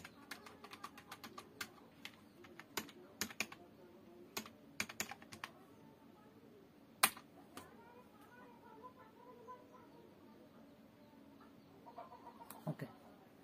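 Quiet typing on a computer keyboard during a tutorial, bursts of soft clicking keystrokes with pauses between, close and faint, with some faint fowl clucking in the background.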